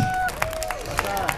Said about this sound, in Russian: Спасибо за ваши аплодисменты, за ваши улыбки.